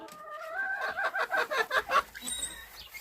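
A broody hen gives a run of low, rhythmic clucks close up, a little throaty and repeated, with no talking.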